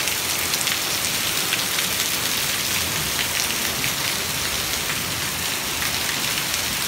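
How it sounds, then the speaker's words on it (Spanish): Heavy rain with hail pours down steadily in Ahualulco de Mercado, Jalisco, Mexico, a dense, constant hiss of drops and hailstones hammering a surface, loud and close throughout with no pauses. "Está cayendo un chingo de granizo."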